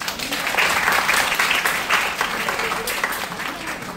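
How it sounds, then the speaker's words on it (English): An audience applauds at a personality development and grooming session, with steady, dense clapping filling the room throughout. "can we still give a round of applause?"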